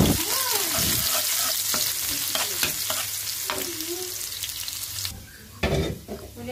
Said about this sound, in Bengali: এখন ডালটা বাগার দিব, এখানে রসুন আর পেঁয়াজ।